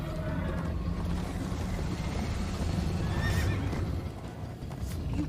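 Horse in the Minecraft Story Mode video game galloping with a constant, loud clip-clop of hooves, overlaid by repeated neighs and whinnies over a rushing background.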